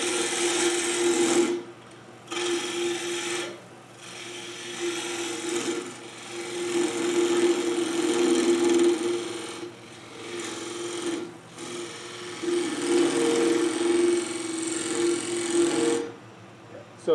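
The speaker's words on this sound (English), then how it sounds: "I'm going to remove a good chunk of this material here with my bowl gouge" A bowl gouge cutting a 10 inch wooden bowl blank spinning on a lathe, a steady loud rasping hiss in long sustained passes separated by brief pauses, close up.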